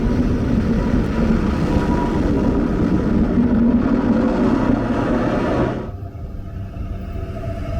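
A train standing at a railway platform in Austria gives a steady loud rumble with broadband noise that cuts down sharply near the end, leaving a quieter hum; no talking.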